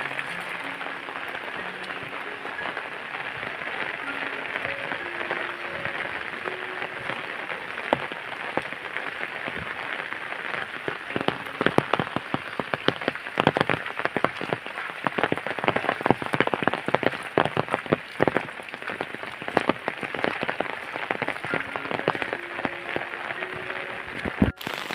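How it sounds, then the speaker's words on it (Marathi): Heavy monsoon rain pours down in the Konkan countryside near a traditional house, a dense continuous drumming on surfaces that grows louder and more spattered midway, with no voices over it. "हा बघा किती पाऊस लागतोय तो."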